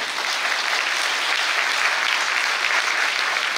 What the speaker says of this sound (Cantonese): 請各位再次熱烈嘅掌聲